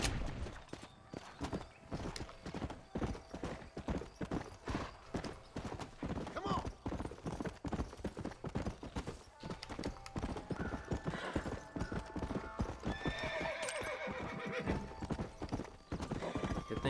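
Horse hooves clip-clop in a steady, rapid galloping rhythm in the Red Dead Redemption video game, joined by a brief whinny and faint gunfire, all loud and continuous throughout.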